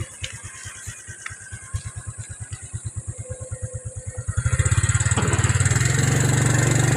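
A motorcycle engine chugs with a slow, even thump, then revs up into a loud, steady roar close by.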